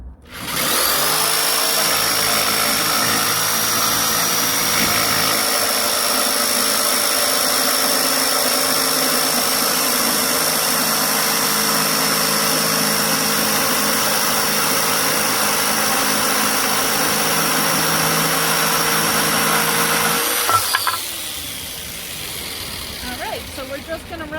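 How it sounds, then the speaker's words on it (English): A Black & Decker jigsaw cuts through wooden boards, a loud continuous buzzing whine held steady for about twenty seconds before it stops and fades into quieter handling noise. "so we're just going to run that jigsaw down all 3 pieces of board so that they're all even"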